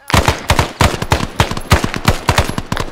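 Bursts of rapid automatic gunfire from the video game SOG Prairie Fire during the Long Tan event, loud and close, repeating in quick rattling strings with no talk.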